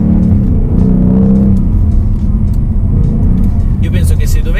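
A 2019 Ford Mustang 5.0 V8 rumbles with a deep, loud, steady low-pitched engine note that swells briefly, heard close and continuous with a voice speaking over it.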